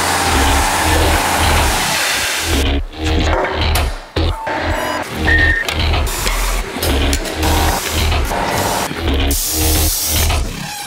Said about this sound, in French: La machine à pneus, on est en train de s'en servir